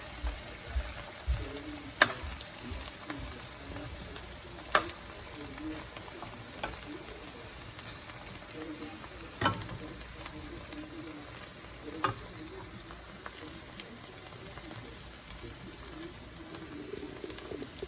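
Onion, pepper and celery seasoning sautés for shrimp and okra creole, giving a low, steady sizzle with scattered spoon scrapes and clicks against the pan, while birds coo faintly in the background.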